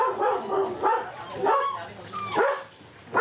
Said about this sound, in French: C'est des chiens loups tchécoslovaques, en l'occurrence possiblement croisés